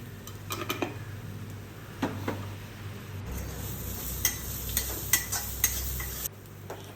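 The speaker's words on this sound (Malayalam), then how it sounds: "ലോ ഫ്ലെയിമിൽ വച്ച് വേണം ഈ മസാലയൊക്കെ ഇട്ട് ഇളക്കി എടുക്കാനായിട്ട്" Masala spices stirred in a pan over a low flame, giving soft scraping and a gentle sizzle with scattered clinks of a utensil against the pan, no voices.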